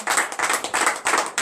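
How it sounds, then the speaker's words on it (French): A church congregation at a morning prayer service in Benin claps in acclamation, a brisk, rhythmic burst of many hands in repeated bunches, close and moderately loud, with no talk. "je vous demande encore une fois de donner de vives acclamations à notre Seigneur"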